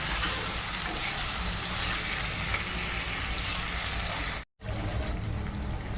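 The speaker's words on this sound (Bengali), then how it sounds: "এটা দিয়ে এবারে ভেজে নেব, মশলার সঙ্গে মিক্স করে ভালো করে কষিয়ে নেব।" Chicken liver (kaleji) and spices frying in a pan while being stirred: a steady, close, dense sizzling hiss that breaks off for a moment near the end, then resumes.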